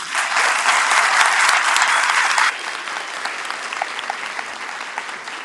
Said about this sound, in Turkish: lütfen kendimizi alkışlayabilir miyiz?